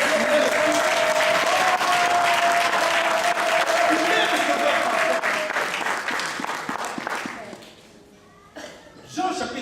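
A church congregation applauds during a sermon, a dense, loud burst of clapping that holds for several seconds, then thins and fades. A few scattered claps and voices are left at the end.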